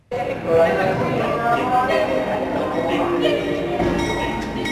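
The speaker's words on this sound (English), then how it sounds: "I'm going to take the long way by train on board the Indian Pacific" Indian Pacific passenger train crossing Australia: a loud, steady rolling rumble with faint metallic clinks and rattles, heard close from on board, with a voice talking over it.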